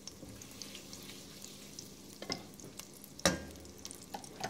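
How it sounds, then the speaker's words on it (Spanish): Two small squares of butter melt in hot oil in a pan, giving a faint, quiet sizzle broken by a few sharp clinks and scrapes of a utensil. "Aquí puse a calentar un poco de aceite y le voy a poner aquí 2 cuadritos de mantequilla."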